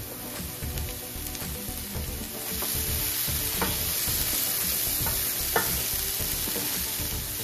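Tomatoes added to a pan of cooked onion and garlic fry with a soft, continuous sizzle that grows a little louder partway through, with a few faint stirring taps.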